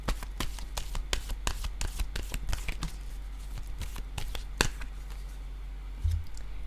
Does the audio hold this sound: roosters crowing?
no